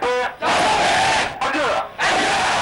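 Army basic training recruits roar in unison, a massed full-throated shout that swells in loud bursts, breaks off briefly, and surges again.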